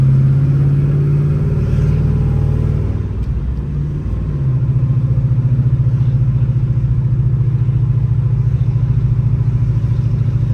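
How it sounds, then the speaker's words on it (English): A 1967 Chevrolet Impala's deep, rumbling exhaust note drones steadily up close, dipping briefly before settling back into a strong, even throb. "Got a nice exhaust note."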